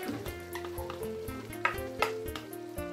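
Reserved onions are added to Cameroonian-style fried beans, and a spoon stirs the pan with scraping knocks over a steady sizzle.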